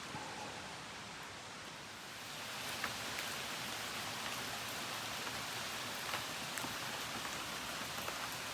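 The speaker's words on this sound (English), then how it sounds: "it's just continued to rain and rain harder" Steady rain falling on a wet day in Vermont, a continuous dense hiss of drops that swells slightly louder partway through, with occasional sharper drips, no voices.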